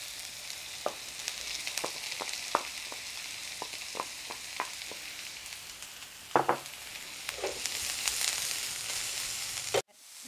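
Mushrooms and garlic stir-frying in a pan for Thai rice soup, a steady close sizzle broken by sharp scraping clicks of stirring at an irregular pace.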